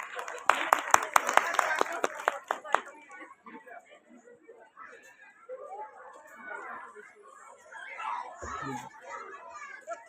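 Students at a school prize announcement in Jalpaiguri burst into loud, rapid clapping that fades after a few seconds, followed by children chattering and talking nearby.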